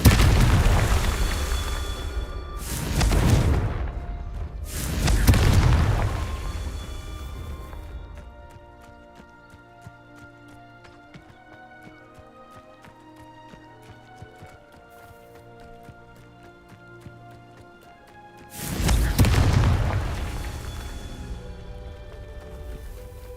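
Confringo spell explosions in Hogwarts Legacy boom out in a quick pair of loud blasts, followed by a long quieter stretch of game ambience and music, then another heavy blast near the end.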